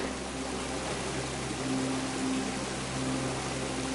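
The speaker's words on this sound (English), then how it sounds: "You know I'm going to stand under that waterfall." Water from a waterfall pours steadily and close by, a continuous broadband rush with no pauses, loud and even throughout.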